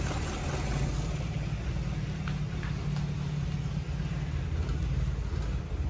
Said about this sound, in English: It's idling pretty low.